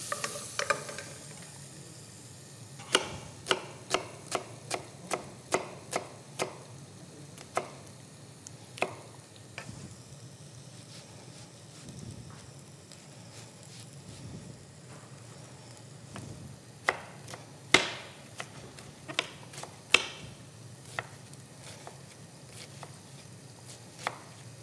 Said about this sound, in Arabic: نحركه مع الزبدة،